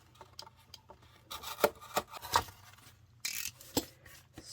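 Scissors snip through a handmade journal cover, cutting away the top flap and side in a few short, close crisp cuts with light rustling of the material between them.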